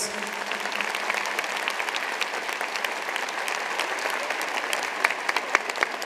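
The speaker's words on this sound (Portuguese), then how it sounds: "Vamos aplaudir a palavra de Deus." Church congregation at a Catholic charismatic gathering applauding, steady dense clapping from a large crowd lasting several seconds, with a few sharper claps near the end.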